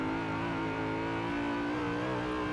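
A BMW M3 GTR race car engine in Forza Horizon 4 holds a steady, loud drone at constant revs with a thin supercharger whistle layered in the tone, and no talking.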